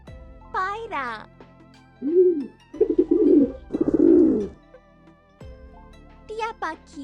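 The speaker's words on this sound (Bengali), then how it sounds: "পায়রা" A pigeon coos in soft, low, rolling phrases repeated three times at close range, framed by a brief spoken voice before and after.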